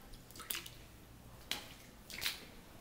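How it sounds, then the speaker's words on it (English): A few squelching footsteps through flood water and mud in a flooded animal shelter, three quiet wet splashes spaced about a second apart over a faint background hiss. "As I'm stepping through all this water,"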